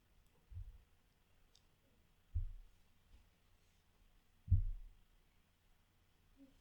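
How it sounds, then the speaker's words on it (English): A computer mouse clicked during web development work, three soft, separate clicks spaced about two seconds apart over a quiet low hum, with no speech. "I'm clicking."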